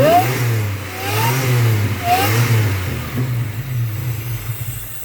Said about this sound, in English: let me blip this a couple times, let you hear some whining